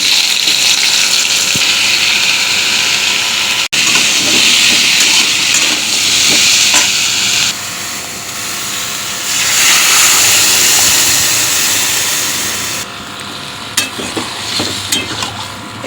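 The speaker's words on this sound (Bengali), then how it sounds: "তো 5 ফোড়ন দিয়ে দিলাম, তেলটা গরম হয়ে গেছে" Panch phoron spices sizzle in hot oil with a loud, steady frying hiss and scraping stirs, the sizzle swelling and easing in bursts throughout.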